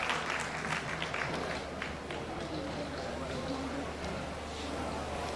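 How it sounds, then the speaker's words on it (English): Applause from a conference audience of polytechnic and college registrars in Nigeria, a steady dense patter of many hands filling the hall, with some voices mixed in beneath it. "Please another round of applause."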